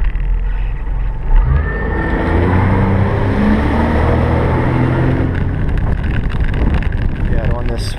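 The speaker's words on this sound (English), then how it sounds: "Now it's powered by a 90-horse Yamaha 4-stroke." A Maverick HPX-V II flats boat's 90-horsepower Yamaha four-stroke outboard drones steadily beneath heavy wind rush and water noise, loud and continuous, with a voice faintly audible in the mix.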